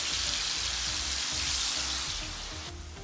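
Sausage sizzling and crackling in a frying pan on the stovetop, a steady dense hiss with soft popping throughout, close and continuous with no talking.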